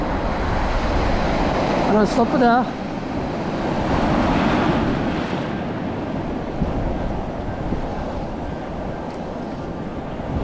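Steady broadband rush of winter sea surf washing against the shore during sea trout fishing, with a brief voice speaking over it near the start.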